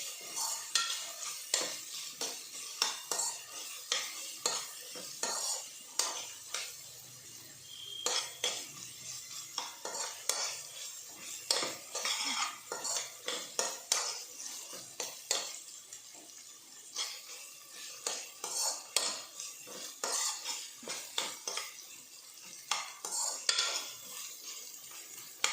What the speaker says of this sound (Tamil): இஞ்சி பூண்டு பேஸ்ட்டு கொஞ்சம் வதங்கட்டும்